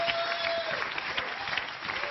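A studio audience at a French celebrity family game show applauds, a dense sustained wash of clapping at even strength for a couple of seconds.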